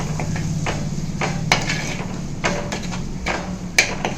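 Fish curry with added salt is stirred in a pot, a spoon scraping and knocking against the metal several times over a low simmer, close by.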